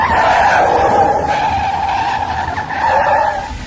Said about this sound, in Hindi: गाड़ी बंद हुई और सड़क किनारे मिट्टी में कुछ दूर खिसती हुई जाकर रुक गई